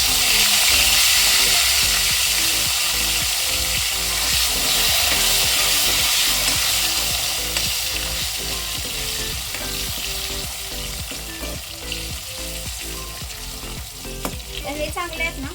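Small chopped brinjals frying in hot oil with garlic and turmeric: a loud, dense crackling sizzle with steady scraping and stirring that eases slightly toward the end, with nobody speaking.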